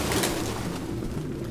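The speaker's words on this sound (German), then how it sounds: "mal sehen, warum die Tauben hier drin sind" Pigeons coo steadily in a crowded indoor roost in Detroit: Become Human, a soft continuous murmur of low burbling calls over a muffled room ambience, with no voices.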